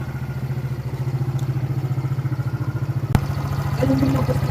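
A Rusi Adventure X 150i version 2 motorcycle engine idles close by in a steady, rapid rhythmic putter, with one sharp click partway through and a slight rise in level near the end.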